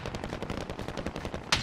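Rapid automatic gunfire in a combat video game sounds as dense, continuous bursts of shots, ending in a sharp louder crack.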